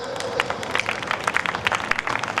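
Audience at a Jain poetry gathering clapping along in a loose rhythm, a moderately loud patter of many hands with uneven beats throughout.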